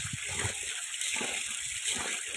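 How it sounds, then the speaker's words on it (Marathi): Unpolished village sorghum grains being washed gently by hand in water, a continuous close sloshing and splashing with soft irregular swirls and no talk. "तर आता आपण ह्या ज्वारीला स्वच्छ धुवून घेणार आहे 2 ते 3 पाण्याने"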